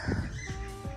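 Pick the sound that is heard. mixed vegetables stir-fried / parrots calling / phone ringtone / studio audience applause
parrots calling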